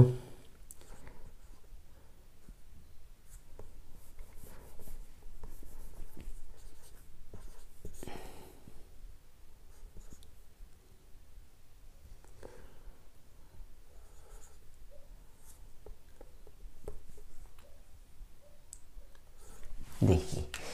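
Pen or chalk writing numbers during a Hindi divisibility-rule maths lesson, faint scratchy strokes and light taps running through a long stretch at low level, with no talk over them.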